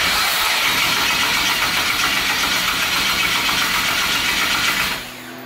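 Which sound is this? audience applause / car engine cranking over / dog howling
car engine cranking over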